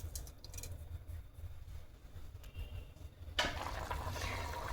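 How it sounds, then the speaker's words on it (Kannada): Water boiling in a pressure cooker for dahi paneer pulao with rock salt. A low steady bubbling rumble gives way after about three seconds to a louder, brighter roiling boil that keeps going to the end. "ಚೆನ್ನಾಗಿ ಕುದೀತಾ ಇದೆ."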